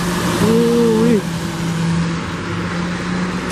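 A 2017 hybrid city bus from the 37 series passes close by with a low engine hum and a rising whine, loud at first and then easing, with a person talking nearby.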